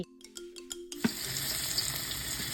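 A few light clinks give way to a sudden loud sizzle as salted mackerel hits hot oil in a wok, then a steady crackling fry continues close up.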